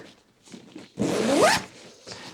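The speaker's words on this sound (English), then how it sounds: "Now let's see if I can zip this up." A Modern Dayfarer V2 backpack is zipped closed in one quick, rising pull of the zipper, loud and close, with small rustles of fabric before and after.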